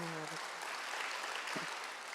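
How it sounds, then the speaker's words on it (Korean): Congregation applause at a Sunday church service, a broad steady wash of clapping filling the whole stretch, with a brief sung or spoken tone at the start and another faint one near the end. "박수로 한번 하도록 해요."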